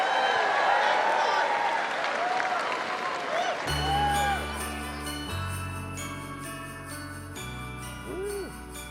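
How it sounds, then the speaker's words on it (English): Audience applause at an outdoor Carols by Candlelight concert for Vision Australia, a loud burst of crowd clapping and cheering that fades as music with bells and sustained tones takes over. "Ladies and gentlemen, Mr. John Foreman, please give him a round of applause."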